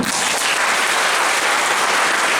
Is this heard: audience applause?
yes